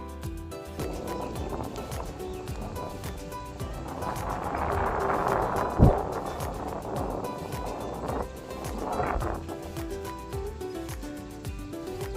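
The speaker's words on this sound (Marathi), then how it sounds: "मित्रांनो, तुम्हाला हा सुंदर स्वच्छ समुद्र" Sea waves wash onto a clean sandy village beach at low tide, a steady surf roar that swells mid-way with a louder crash, then eases back to a soft, continuous wash.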